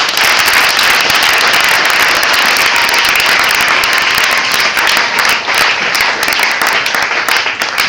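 A large crowd at a youth festival opening ceremony applauds and cheers a sponsor, with loud, dense clapping sustained throughout and no break.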